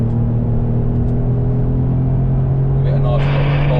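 An Alfa Romeo V6 Spider engine accelerating from inside the car, a loud steady droning rumble that builds with a rising whine near the end.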